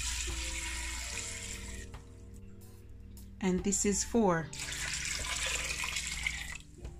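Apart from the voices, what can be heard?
water poured into a pot for sea moss gel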